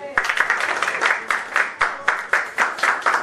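Wedding guests at a Paris town-hall ceremony clap in a steady patter of hand claps, with sharper bursts recurring about every half second, moderately close.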